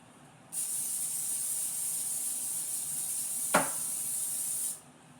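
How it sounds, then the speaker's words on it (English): Aerosol can of vegetable oil cooking spray greasing a wire rack: one continuous close, loud hiss lasting about four seconds, with a small knock midway through the spray. "I sure do love aerosolized vegetable oil."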